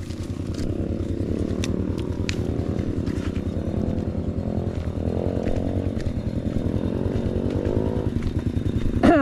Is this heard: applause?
no